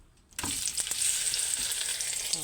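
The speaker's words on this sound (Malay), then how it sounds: "sekarang kita dah panaskan minyak. So, kita tumiskan kita punya bawang kita, bawang dengan garlic kita tumiskan ya" After a brief quiet start, onion and garlic hit hot oil and sizzle loudly and continuously, a bright close hiss with a few stirring knocks near the start.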